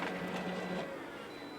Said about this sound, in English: I'm running these signs, which I'm very proud of, through the printer again